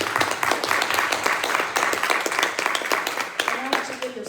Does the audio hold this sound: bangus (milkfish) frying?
no